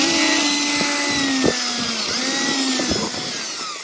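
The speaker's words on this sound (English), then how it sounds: "Drill some holes down in here." A power drill bores holes in a plastic milk jug used for winter seed sowing, a loud continuous whining drone close by with a few sharp knocks as the bit breaks through.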